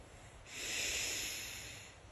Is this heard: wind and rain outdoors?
no